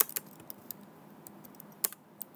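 Brief run of light computer-keyboard keystrokes while entering a PLC address for an S7-300 analog output module, a few separate clicks close by in a quiet room.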